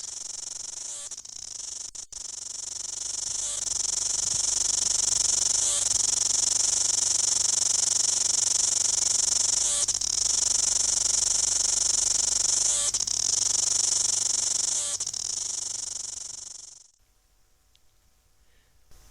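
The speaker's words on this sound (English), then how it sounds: "This is the sound of a cicada in Lower Hutt, New Zealand, recorded in mid-February 2006." A cicada singing in Lower Hutt, New Zealand, in mid-February, a loud, sustained high buzzing trill pulsing in regular bursts, close by, cutting off abruptly near the end.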